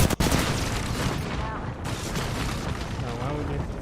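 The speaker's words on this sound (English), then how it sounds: "Airstrike." Repeated airstrike explosions rumble through an Apex Legends match, a steady dense barrage of booms and blasts filling the whole stretch with a loud, continuous roar.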